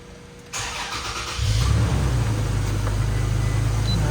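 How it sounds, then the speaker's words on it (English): A 2017 Toyota Tacoma pickup with a 2GR-FKS V6 cranks and fires up after a timing chain cover reseal, a brief starter whir followed by a steady, loud idle that settles into a continuous hum. "let's start the truck"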